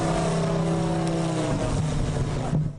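A radio-controlled model plane with a radial engine revs hard for takeoff at an RC flying field, a loud, steady buzzing drone holding close throughout, with a brief shift in pitch near the end.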